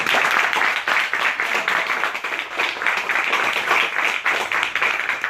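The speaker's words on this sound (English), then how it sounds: "Can we get another round of applause for that?" Steady applause from an audience at a book launch event, dense and continuous clapping throughout with a few louder individual claps standing out, filling the room without any talk over it.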